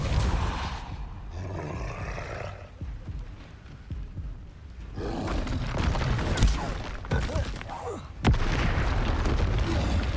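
Depulso force spells cast in Hogwarts Legacy, deep booming blasts and thumps recurring in bursts amid combat rumble, with a sharp loud impact near the end and a shouted voice among the din.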